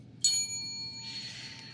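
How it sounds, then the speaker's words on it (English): A single honorary bell is struck to start a game, giving one bright ding that rings on with a sustained shimmering tone, fairly close and alone, before a second faint shimmer follows. "Renee, why don't you ring the honorary bell to start this off?"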